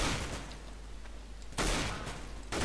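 AK rifle bursts in Counter-Strike: Global Offensive, a sustained loud rattle of rapid shots that cuts out and then resumes twice in quick succession.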